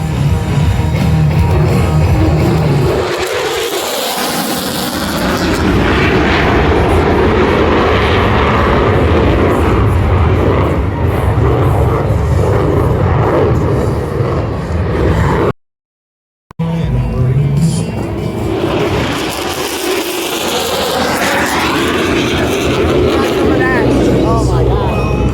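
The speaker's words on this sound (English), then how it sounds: "Coming in from the left, the F-35 pedal turn." F-35 fighter jet roaring through a flat pedal turn at the Orlando Air Show, a loud sustained engine rumble and whoosh that swells and shifts as it passes overhead, with an announcer talking over it.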